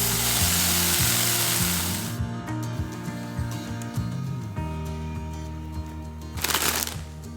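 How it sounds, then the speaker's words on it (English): Two bacon slices frying in a pan, a loud broadband sizzle that fades after a couple of seconds into quieter crackle, with a rhythmic background music bed and a brief burst of sizzle near the end. "Fry up 2 slices of bacon until crispy."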